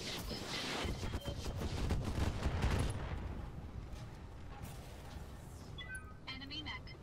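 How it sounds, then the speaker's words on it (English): Mech weapons firing in the video game Roguetech, a dense sustained barrage of overlapping blasts that rises and then thins out, with some electronic tones toward the end. "We can try for a headshot, fire everything."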